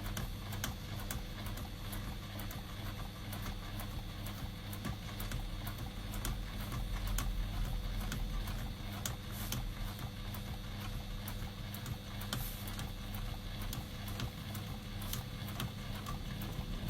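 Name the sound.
sewing machine stitching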